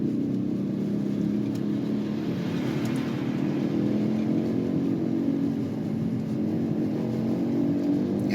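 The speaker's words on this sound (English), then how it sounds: "There's a motorbike behind me." A motorbike passes behind a moving car, its engine a steady low rumble heard from inside the vehicle over the car's own road noise.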